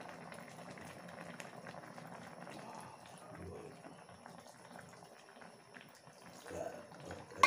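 Catfish adobo with coconut milk and taro leaves bubbles in a pot with a soft, continuous simmering burble, close and fairly quiet, swelling near the end.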